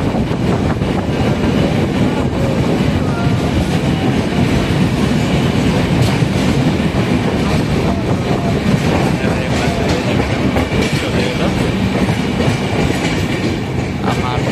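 Train running through the Igatpuri-Kasara Ghats in the monsoon, a loud continuous rumble of wheels and carriages with a faint rhythmic clatter, heard from on board, steady and unbroken.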